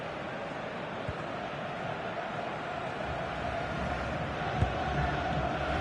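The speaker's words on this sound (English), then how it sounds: "just listen to this crowd. They want a bit more." A large stadium crowd at a Dutch club football match roars steadily late in the game, the noise swelling slightly toward the end with a few sharper shouts rising out of it.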